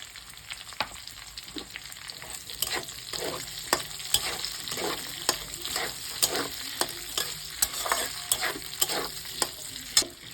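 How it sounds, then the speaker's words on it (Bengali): Chopped onion, washed beforehand, frying in hot oil for a chili chicken dish, with a steady bright sizzle and regular sharp spatula scrapes and clacks as it is stirred, close by and with no talking. "এই যে পেঁয়াজটা কেটে ধুয়ে রেখেছিলাম, এবার এইটা আমি এর মধ্যে দিয়ে দেবো।"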